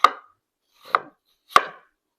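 Knife chopping through palak paneer ingredients on a cutting board in a cooking class: three sharp, distinct chops spaced evenly about three-quarters of a second apart, close and crisp with no talking.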